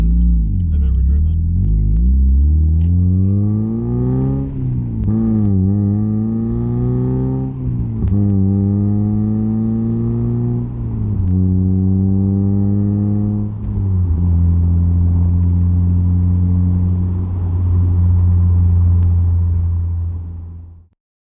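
A 1990 Mazda Miata NA6 with its 1.6-litre engine pulls through several gears, its smooth, loud engine note climbing in pitch and dropping at each shift before settling into a steady drone, heard close and continuously with no talking.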